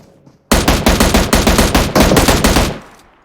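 Rapid automatic gunfire in PUBG Mobile on the Erangel map, a loud sustained burst of about two seconds with evenly spaced shots, then a short fading tail.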